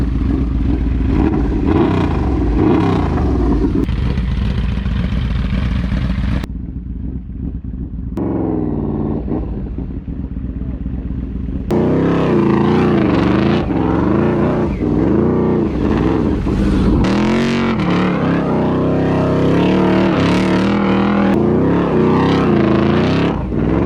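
A Yamaha V-Max motorcycle spins donuts in the dirt. Its engine roars loud and close in long revving surges, dips briefly, then climbs again in wavering, repeated bursts of throttle.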